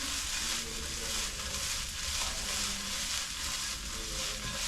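Mushrooms fry in a pan for risotto, giving a continuous quiet hiss of sizzling with soft stirring underneath and no talk.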